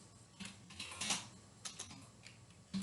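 Quiet typing on a computer keyboard, a scatter of soft irregular key clicks close to the microphone with a few louder taps, no voices.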